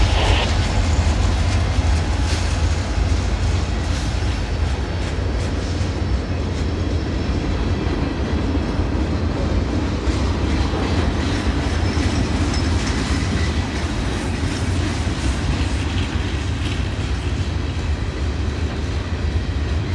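A train rumbles loudly and steadily past a railroad crossing at close range, with continuous clickety-clack of wheels on rail and some wheel squeal throughout.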